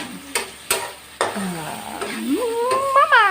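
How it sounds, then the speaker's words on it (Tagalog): Shrimp paste (bagoong) sautés in a pan, with a few sharp utensil taps and scrapes over a low sizzle, and a voice briefly talking near the end. "Gigisahin ko muna tong bagoong."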